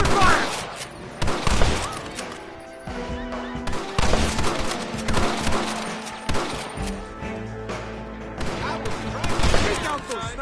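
Repeated bursts of gunfire during a shootout in the video game Red Dead Redemption, loud close shots and rapid volleys spread across the scene, mixed with game voices and speech.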